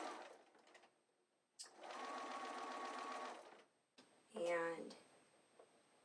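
A sewing machine stitches binding onto a scalloped quilt border in short bursts, a close, steady mechanical whir that starts, stops and restarts, with faint talk at the beginning.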